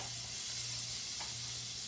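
A beer-soaked steak hisses steadily as it is lifted off the heat, a short close sizzle over a low steady hum.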